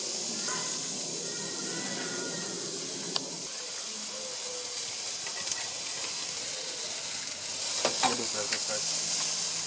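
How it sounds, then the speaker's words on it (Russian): Steady loud sizzling of London broil steak frying on high heat over charcoal, a continuous hiss with occasional pops and scrapes, and no talking. "Все, жар достаточно, мы начинаем жарить лондон бройл."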